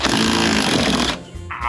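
A power tool cuts off the ends of metal bolts during a DIY pontoon houseboat build, a loud continuous grinding roar that stops abruptly after about a second, leaving quiet with a brief faint noise.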